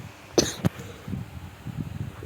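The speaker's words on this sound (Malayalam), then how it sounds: "ചുമയാണ്" Two quick, close coughs ring out in succession, followed by softer throat sounds and breathy noise against a quiet background.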